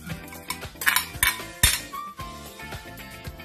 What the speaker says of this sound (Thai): คนนะคะคลุกเคล้าเข้ากัน